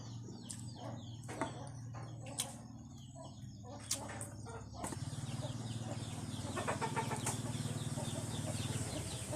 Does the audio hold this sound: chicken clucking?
yes